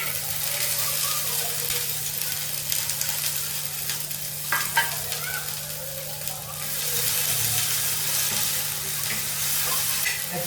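Mixed sprouted legumes fry in a little oil on a hot iron tawa, producing a continuous close sizzle with occasional stirring scrapes over a low steady hum.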